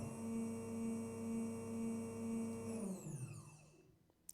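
A game elevator's motor loop in the Unreal StackOBot project hums steadily with a pulsing drone, then winds down in a falling sweep as the stop sound plays and the loop fades, ending in near silence with a couple of small clicks.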